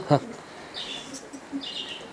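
A couple of brief, faint chirps from a small wild bird, just released from a bird trap, stand out against a quiet background, spaced about a second apart.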